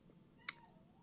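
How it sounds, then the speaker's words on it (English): A single short, high-pitched kitten meow rings out once over a quiet room, brief and fairly faint. "If you hear cats meowing,"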